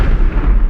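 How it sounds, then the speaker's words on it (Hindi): A nuclear bomb explosion sound effect: a single loud, deep, rumbling boom that fills the whole brief moment without any talk. "आज का टॉपिक है न्यूक्लियर बॉम्ब का धमाका।"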